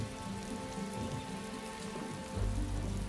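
Tropical monsoon rain during the rainy season over rice farmland, a steady close patter of drops on surfaces that swells with a deeper low rush near the end.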